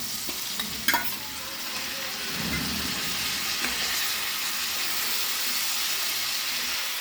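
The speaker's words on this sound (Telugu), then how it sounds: "అట్టగా సగం కొంచెం వేగాలి" Banana pieces fry in hot oil with a steady sizzling hiss, a few stirring knocks early on, and no talking.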